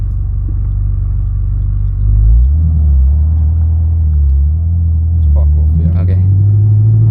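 A Ferrari California's engine pulls hard after an upshift from first gear, a loud, steady low rumble that rises in pitch as the car accelerates, with speech-like murmur from inside the cabin.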